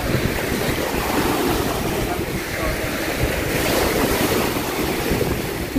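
Strong surf crashing at a beach in Bohol with steady wind buffeting the microphone, a continuous loud roar of waves with no pauses, no voices.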